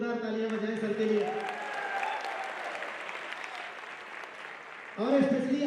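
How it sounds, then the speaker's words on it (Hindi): An audience claps steadily at a Hindi-language seminar, a sustained burst of applause with a voice carrying over it and speech resuming near the end. "मैं चाहूंगा जोरदार तालियां बजाएं सर के लिए"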